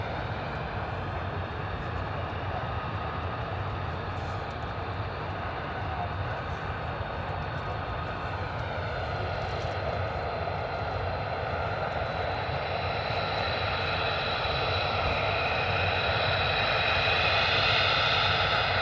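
An F-35 fighter jet roars steadily at RAF Lakenheath, a broad continuous engine rumble with a whining upper tone that swells slightly toward the end, heard with a voice talking over it.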